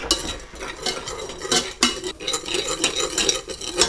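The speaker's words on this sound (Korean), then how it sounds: "고춧가루랑 양파를 넣고 볶아주세요" Onion, garlic and chili powder stir-frying in oil for seafood jjamppong soup, with busy metallic stirring scrapes and clatter over a soft sizzle, close and continuous without talk.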